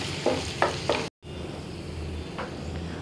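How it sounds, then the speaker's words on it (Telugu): Turmeric and chili powder frying in a pan with a low, steady sizzle, broken by a few brief stirring scrapes and a short dropout, with no voices. "పసుపు, కారము ఇవన్నీ పచ్చివాసన వదలాలండి. ఒక నిమిషం వేయించేసుకుందాం."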